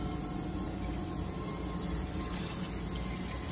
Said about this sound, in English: Fill it up with some warm water.